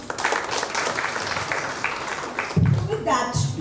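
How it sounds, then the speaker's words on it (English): An audience at a self-confidence keynote breaks into sustained applause, a dense wash of clapping from a crowded room. A voice talks over it near the end. "Please give her a big round of applause."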